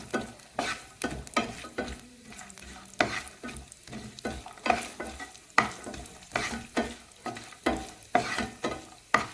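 Pistachios fry over low heat in a pan, with a spoon stirring in regular scraping strokes about every half second over a soft, steady sizzle, close and alone.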